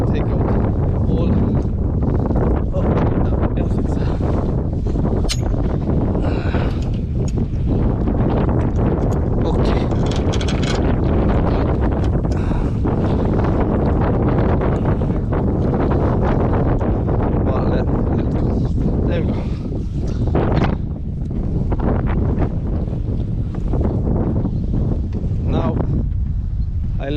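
Wind buffeting a microphone aboard a sailboat leaving Cadiz under sail with the engine off, a loud, continuous roaring gust noise with fluttering surges throughout.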